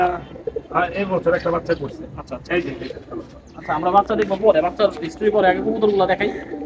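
Racing pigeons coo in a loft beneath close conversation between men, the soft cooing mostly buried under the talking.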